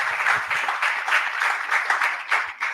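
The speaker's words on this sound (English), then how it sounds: "A round of applause for Peter, the convener." Conference audience applauding at an African digital asset summit, a steady, dense wash of clapping lasting the whole stretch with no voices over it.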